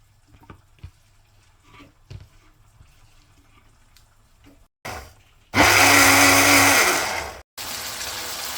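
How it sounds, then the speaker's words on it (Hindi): An electric kitchen blender grinds chopped tomatoes, starting after some quiet kitchen clatter and short bursts, then roaring loudly for about two seconds before stopping and restarting. "टमाटरों को काट लिए, अब पीस लेते हैं।"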